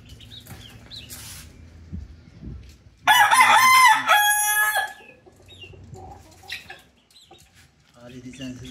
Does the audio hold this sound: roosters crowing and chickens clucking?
yes